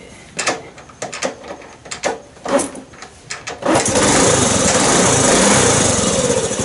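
An old, customised Honda C90 Super Cub is kicked over several times with clattering strokes before the single-cylinder engine catches and settles into a steady, loud putter close by, with no talk.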